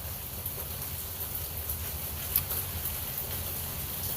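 Steady, soft rain falls outdoors near a roof, a continuous gentle hiss with low rumble and one faint drip-like tick, with no voices.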